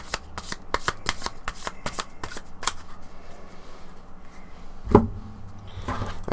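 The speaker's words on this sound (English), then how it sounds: "And shuffle these cards together." Board game cards are shuffled by hand in quick, close riffling bursts for about three seconds, followed by quieter handling and a single sharp tap.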